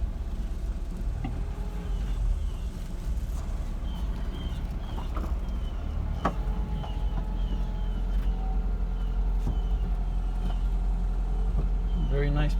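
A Mercedes-Benz 190SL rolls along at low speed, its engine a deep, steady rumble from inside the car, with scattered clicks and clatter over the drone.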